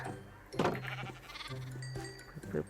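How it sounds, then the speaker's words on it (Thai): Sheep bleat twice in a Minecraft survival world, a wavering nasal call followed by a second shorter one, close and clear over quiet game ambience. "แกะมันกินหญ้าด้วย"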